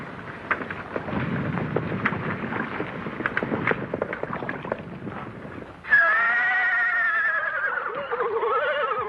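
A loud horse whinny rings out after several seconds of rumbling, rain-like noise, its pitch wavering and falling as it trails off.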